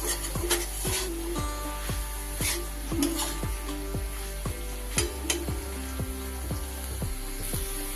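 Soybean chunks, potato and pointed gourd curry sizzle and fry in a pan while a spatula stirs and scrapes repeatedly, close and steady with no talking.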